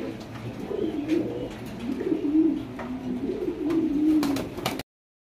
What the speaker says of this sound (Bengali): এখানে আছে একটা গাজী মডানা নর কবুতর